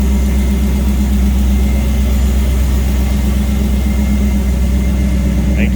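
A 1967 Chevrolet C10 pickup's 6.0-liter V8 idling steadily, a deep continuous rumble with a loping throb, loud and close with no talking.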